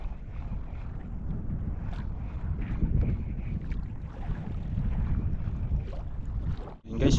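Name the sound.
wind at sea on a fishing boat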